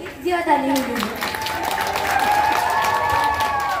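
An audience at an outdoor village comedy performance breaks into clapping, a dense crackle of many hands that builds and holds, with a voice speaking or singing over it at the start.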